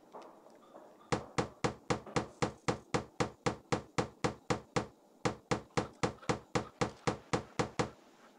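A hammer nails support pieces together in the Tonka Workshop video game, a long run of evenly spaced, sharp, loud knocks, about two per second, with one brief pause midway and no talk.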